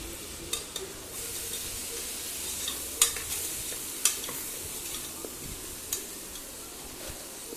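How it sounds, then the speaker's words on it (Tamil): Peas and potatoes stirred into a sizzling masala for pea kurma, a steady hiss of frying with scattered spoon taps and scrapes against the pan, close and without voices. "நம்ம எடுத்து வச்சுருக்கிற பட்டாணியை நம்ம ஒன்றா சேர்த்துக்கலாம் கூடவே கட் பண்ணி எடுத்து வச்சுருக்கிற உருளைக்கிழங்கையுமே நம்ம ஒன்றா சேர்த்துட்டு நல்லா கலந்து விட்டுடலாம்"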